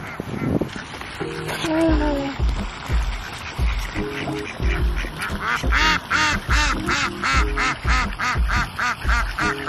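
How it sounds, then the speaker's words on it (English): Loud, repeated quacking from several big ducks at a duck pond, close by, in irregular bursts that grow denser and more rhythmic toward the end. "some big ducks."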